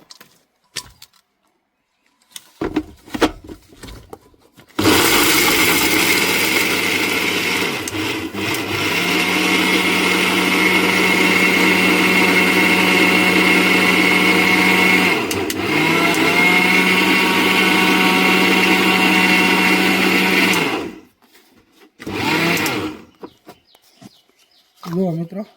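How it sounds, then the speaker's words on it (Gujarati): A kitchen mixer grinder runs steadily for about sixteen seconds, loud and close, churning crushed fried muthiya dough into coarse crumbs for churma laddu, with brief pauses and short restarts near the end. "તો મિત્રો આપણે મિક્સરમાં નાખી દઈશું આ ખાંડેલું બધું."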